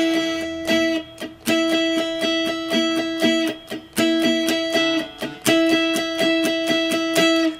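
An electric guitar strums a 70's R&B style chord shape in a steady, gentle down-up pattern with a pick, with bright, repeating chord hits, close and alone.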